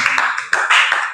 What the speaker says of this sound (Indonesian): Kasih tepuk tangan dulu dong untuk kelompok